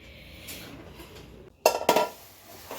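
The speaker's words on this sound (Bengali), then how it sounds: "মাছ ধোয়ালাম" Metal pots and dishes clatter and clink loudly in a home kitchen sink while fresh catla fish is washed, a steady background of running water broken by a quick burst of knocks.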